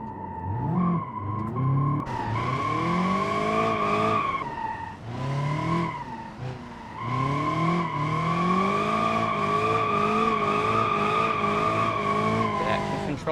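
A drift car in BeamNG.drive revs hard and holds a long, loud tire squeal, its engine note rising and falling through several slides over about thirteen seconds.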